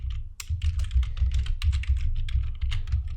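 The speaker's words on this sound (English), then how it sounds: "apologies for the noise of the keyboard." Close, steady computer keyboard typing, a rapid uneven patter of key clicks over a low background hum, no speech.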